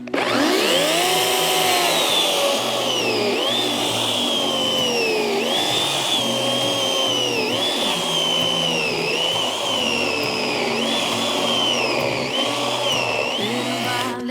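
A Vitals ARZ 3640S cordless saw runs steadily and loudly throughout, its motor pitch dipping repeatedly as it bites and then rising again.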